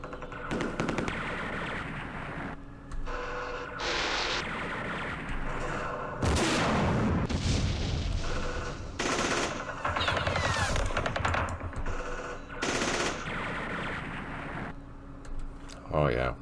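Gunfire in Campaign Series Vietnam, a Battle of Hue scenario: repeated bursts of machine-gun rattle and rifle shots with heavier booms, loud and dense throughout, with someone talking over part of it.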